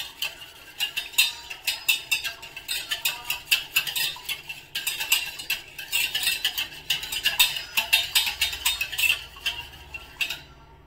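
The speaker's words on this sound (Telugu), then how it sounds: "బీటర్తో బీట్ చేసుకున్నాను" Curd mixed with a little water and salt is beaten with a hand beater for dahi vada, giving a quick run of rhythmic clicking and tapping strokes against the bowl, close and fairly steady, with no talking.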